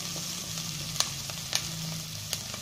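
Chopped vegetables fry in melted ghee in a pan while cooking a millet and sago khichdi, a steady soft sizzle punctuated by a few sharp stirring clicks and scrapes.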